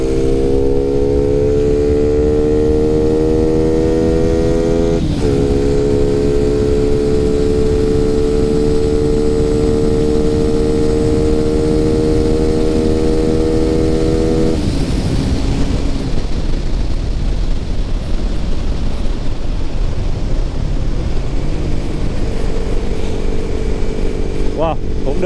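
A motorcycle fitted with a quiet, restrictive exhaust runs on a dyno, its tone rising steadily through two long pulls before a brief drop and a rougher, lower roar; loud and continuous throughout.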